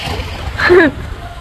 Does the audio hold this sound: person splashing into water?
yes